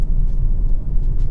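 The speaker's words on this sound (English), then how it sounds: "you get that lovely muted induction noise coming through the car" Muted induction noise from a Honda car engine, heard as a steady, loud, low rumble from inside the cabin, continuous with no breaks.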